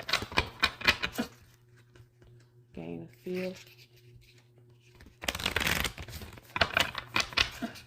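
Tarot cards are shuffled in quick riffling bursts, close and crisp, with a person speaking briefly before and after.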